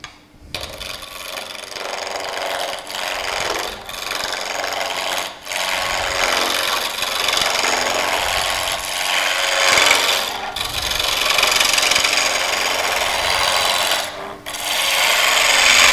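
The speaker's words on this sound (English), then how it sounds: "I have my funky looking roughing gouge." A roughing gouge cuts canary wood spinning on a lathe, a loud, continuous close scraping and rasping that runs throughout with brief regular dips as the tool shifts.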